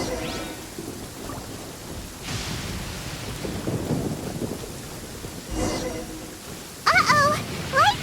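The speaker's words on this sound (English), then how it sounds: "Lightning storm!" Thunder rolls through a lightning storm in the video game Genshin Impact, deep rumbles swelling and fading in waves over steady rain, with sharper bright tones breaking in near the end.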